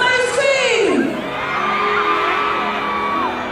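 A concert crowd at a performance in Barbados screaming on request, loud shrill whoops and yells that swell then sustain into a long cheering roar.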